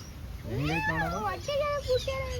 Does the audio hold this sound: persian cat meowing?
yes